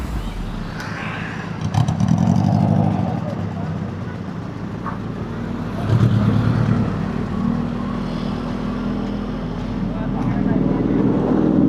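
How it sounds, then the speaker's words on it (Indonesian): A car passes along a busy street lined with buildings in Bandung, a loud engine rumble rising and swelling twice against steady traffic noise, with someone talking over it. "Ini mobil mau kemana ya?"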